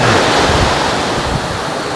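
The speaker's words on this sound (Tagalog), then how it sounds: "Sobrang alon eh." Strong ocean surf breaks on an island white-sand beach in rough weather, a loud, steady roar of crashing waves mixed with wind buffeting the microphone, with no voices.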